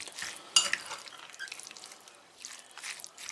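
A spoon stirs roasted red kapya pepper meze mixed with olive oil, making soft, wet scraping and squelching, one brief sharp clink of utensil on bowl, and quiet pauses between strokes.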